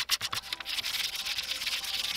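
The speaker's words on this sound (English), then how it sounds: "Let me grind this down a bit." Wooden fishing lure's lip being ground down, a steady close abrasive rubbing and sanding rasp that runs continuously, with a few sharper scraping strokes at the start.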